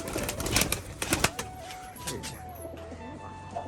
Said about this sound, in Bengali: তো পায়রাগুলো সব এই সাইডের দিকে চলে এসছে